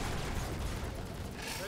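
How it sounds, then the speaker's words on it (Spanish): Rapid gunfire bursts in the Transformers: War for Cybertron video game, dense overlapping shots and booms filling the whole moment, loud and close, with battle chatter mixed underneath. "Mis disparos están rebotando en él."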